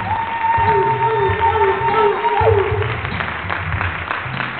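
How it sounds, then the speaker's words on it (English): Audience applause and crowd noise in a hall as a pageant's first runner-up walks the stage, steady clapping under background voices and a sustained musical tone. "Please give her a great round of applause"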